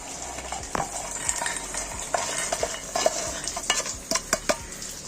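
Chickpeas roast in a pan while a metal spoon stirs them, making repeated scraping clinks and soft rattles over a faint sizzle, close and fairly quiet.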